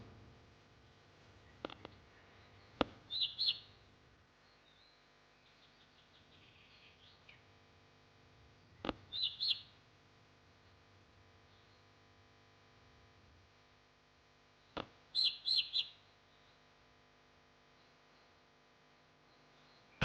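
A bird in the Forever Pets video game hatching from its nest gives three short bursts of high chirps, spaced several seconds apart. Soft clicks come before each burst, with near silence between.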